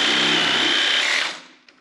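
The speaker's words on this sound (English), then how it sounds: "It's only aluminum, so I switched to a wood blade." A power saw fitted with a wood blade cuts an aluminium bracket in a loud, close, high whining buzz that winds down and fades after about a second.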